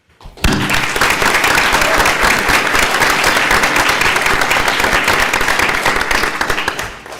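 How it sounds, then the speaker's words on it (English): Sustained applause from an audience at a school board meeting, dense steady clapping that starts abruptly and holds at full strength throughout, with no talking. "Please give these students a round of applause."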